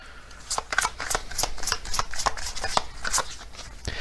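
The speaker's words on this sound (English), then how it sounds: "I'm gonna get one of these Zodiac cards." A deck of zodiac oracle cards is riffled and shuffled by hand, producing a close, rapid series of crisp flicking snaps at an uneven rhythm, alone without talk.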